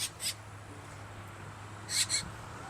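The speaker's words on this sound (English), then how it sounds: "Got two birds under there, just yelling at us." Two birds hidden under plants at a garden nursery give two sharp, bright bursts of calls, one at the start and one near the end, with a quiet steady hum between them.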